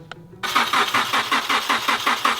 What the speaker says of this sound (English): Wayne, I could have told you it wasn't starting.